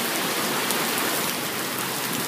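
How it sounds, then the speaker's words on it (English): Steady rain falls outdoors, an even, close hiss of drops with no pauses or other sounds. "Look at the rain."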